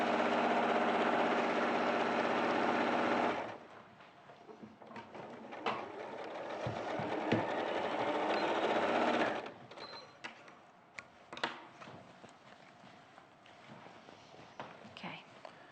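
A sewing machine stitches the centre back seam of a garment, a steady close mechanical whir for about three seconds. A second stretch of sewing follows later, with handling noises and thumps between runs.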